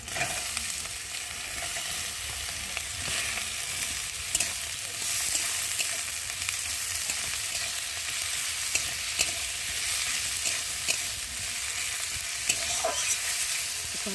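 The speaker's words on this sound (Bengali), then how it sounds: "এখন আলুগুলো দিয়ে ভেজে নেবো" Potatoes frying with onions in a wok, a continuous close sizzle broken by occasional utensil scrapes and stirring knocks, with no voices.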